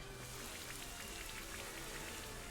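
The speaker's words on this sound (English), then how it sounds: "Rain Dance, interesting." Steady in-game rain from the Rain Dance move in a Pokémon VGC battle, a continuous hiss of falling drops pattering on a surface, quiet and unbroken throughout with no voices.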